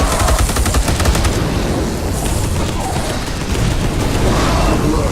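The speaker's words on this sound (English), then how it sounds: "then I'm going to shoot slightly" Rapid gunfire from Space Hulk Deathwing, loud and sustained: rattling bursts with booming impacts layered over a heavy rumble, continuing throughout without talk.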